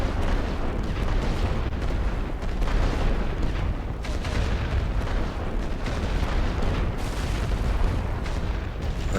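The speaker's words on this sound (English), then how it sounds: "Send more artillery here." Artillery bombardment in a WW1 strategy game on the Western Front: a continuous, dense rumble of distant shell bursts and booms, steady and heavy throughout with no voices.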